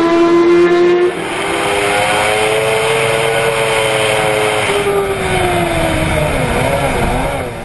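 A Kawasaki Ninja ZX-10R endurance racing motorcycle roars close by, its pitch climbing steadily as it accelerates hard, then wavering through gear changes.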